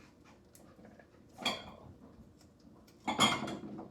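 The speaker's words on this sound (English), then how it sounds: "That is the dog getting into the cat bowls." A dog noses through empty metal cat bowls, two short bursts of clinking and scraping metal, each under a second, separated by quiet indoor room tone.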